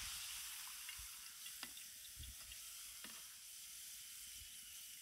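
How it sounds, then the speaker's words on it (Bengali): Chana dal (split chickpeas) deep-frying in hot oil, a steady broadband sizzle with occasional stirring clinks and scrapes from a strainer, close and continuous with no talk. "তেল কিন্তু ভালো করে গরম করে তারপরে এই ডাউল দিতে হবে।"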